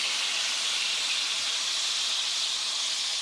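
White cooking wine and tomatoes hit browned rabbit pieces in a hot pan for rabbit cacciatore, giving a steady, broad hiss of sizzling and simmering that holds evenly throughout with no voices.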